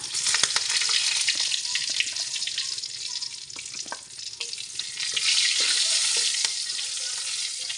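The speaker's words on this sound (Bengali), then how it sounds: "গরম মশলা আর তেজপাতা দিয়ে একটু নেড়ে ছেড়ে নিচ্ছি" Garam masala and bay leaves hit hot oil already used for frying small prawns, giving a loud, steady sizzle with faint scraping from stirring throughout.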